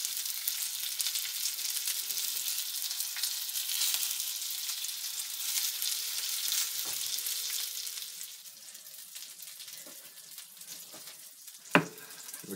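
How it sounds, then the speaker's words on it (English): Hot dogs sizzle steadily on a grill with a bright, crackling hiss that fades somewhat toward the end, broken by a single sharp clink near the close. "Grill is still sizzling."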